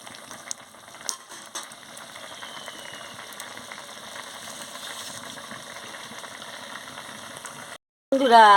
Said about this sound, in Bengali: কেমন ফুটে ফুটছে টকবক করে যত ফুটছে তত রঙটা বেরোচ্ছে